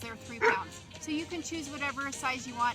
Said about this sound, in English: and yes, that's the dog